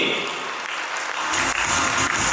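Audience applause at a speech on reversing diabetes naturally, a full burst of clapping from a hall crowd that swells louder partway through and continues to the end.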